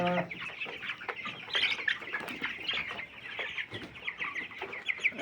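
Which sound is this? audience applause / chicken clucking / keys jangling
chicken clucking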